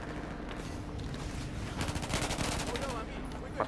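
Automatic gunfire in the Battlefield 4 video game on PS4, rapid bursts building to a dense volley in the middle, heard over a steady background of in-game noise.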